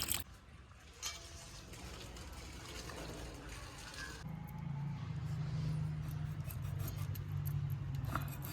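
Water splashes and runs steadily as pomfret fish are rinsed clean, a continuous wet rushing that grows fuller midway, with faint clinks at the start.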